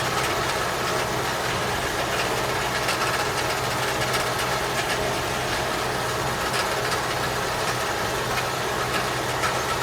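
A John Deere 447 belt round baler runs steadily and quietly in the field, giving off a continuous, even mechanical drone with faint rattling and no breaks or voices throughout.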